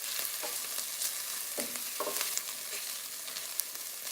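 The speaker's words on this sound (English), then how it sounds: "Let me just check the onions again. Let's give them a stir here." Onions sizzling in a little oil in a pan for a masala base sauce, with a steady frying hiss broken by a few scraping stirs, close and moderately loud with no talking.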